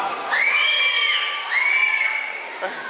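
Large crowd cheering and shouting at a Thai military conscription lottery draw, with two rising whoop-like swells of voices, loud and close, fading toward the end.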